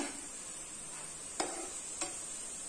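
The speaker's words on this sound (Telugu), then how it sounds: "ఒక 2 సెకండ్స్ ఇలానే వేయించుకుందాము" Beaten rice (atukulu) being roasted and stirred in a pan, a soft steady sizzle with two faint scraping strokes of a spoon, close and quiet, no voices.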